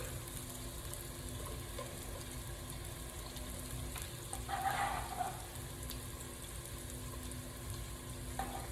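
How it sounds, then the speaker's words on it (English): Yellow onion and garlic cloves sweat in a pan for tri tip chili, a faint steady sizzle with a brief burst of stirring and crackle near the middle, no voices. "Now you want to sweat the onions, get them translucent, give them a nice stir here."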